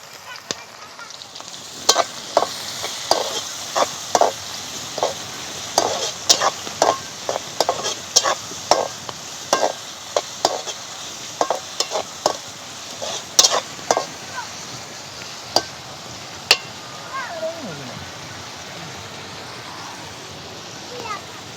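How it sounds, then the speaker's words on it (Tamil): Chopped tomatoes fry in a pan for a village-style paneer curry: a soft, steady sizzle runs throughout, punctuated by regular scraping stirs of the spoon every second or so. "தக்காளி பழம் வெட்டி வச்சிருக்கிறோம் சின்ன சின்ன போடுவோம்"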